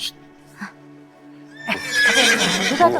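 A horse whinnies loudly and close by in a rising, wavering neigh that grows over the last half of the clip, following a quieter stretch with faint tones and a brief soft sound.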